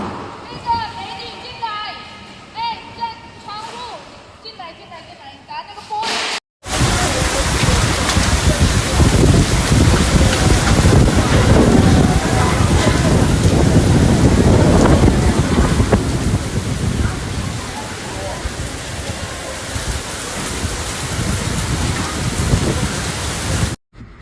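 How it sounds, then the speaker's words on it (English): Typhoon Danas in Fujian, China: heavy rain roars steadily with gusting wind, loud and dense after a brief quieter stretch at the start. "the storm's powerful winds and soaking rains"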